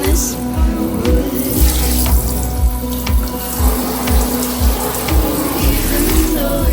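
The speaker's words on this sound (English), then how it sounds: "Now it's time to rinse, and this time I can just rinse with cold water or hot water, whichever one you choose." Running water from a kitchen tap rinses a sink in a steady splashing stream, close and loud, with a faint rhythmic thumping underneath and no speech.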